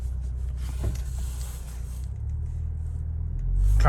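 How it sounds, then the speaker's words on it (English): Ford Explorer ST on an E50 tune with an MBRP exhaust, heard from inside while driving: a steady low engine rumble that swells slightly near the end. "just gonna do some driving around"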